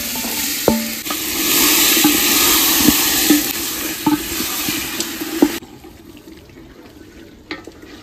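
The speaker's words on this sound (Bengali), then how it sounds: "চিকেনটা কষাতে কষাতে জল বেরিয়েছে, কষাবো আর এই জলটা শুকিয়ে যাবে" Raw chicken stirred and sautéed in a cooking pot, giving a loud close sizzle with sharp scraping spoon strokes and clinks, the hiss dropping away near the end as stirring slows.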